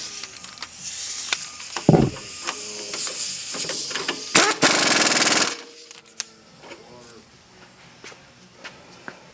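Ratchet tightening the upper nut on a Tein coilover strut during a suspension install on a MKIII Toyota Supra Turbo, with sharp mechanical clicks, clanks and a loud hissing burst in a garage.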